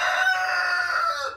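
A rooster crows once, close and loud, on a rural property in Tennessee. The single cock-a-doodle-doo is strained and sustained, lasts just over a second and fades at the end.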